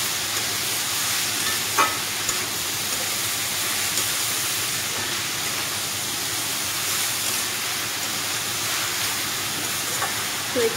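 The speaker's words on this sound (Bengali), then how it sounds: "ভালোভাবে নাড়ে চেড়ে দিব" A rohu fish head and ash gourd curry with turmeric, salt and slit green chillies cooks in a pan, giving a steady, even sizzle with a few faint stirring knocks.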